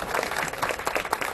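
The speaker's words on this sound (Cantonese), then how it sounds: "俾啲掌聲新娘子。" Guests at a wedding ceremony applaud the bride, a brief burst of many hands clapping close by, lively and uneven in rhythm.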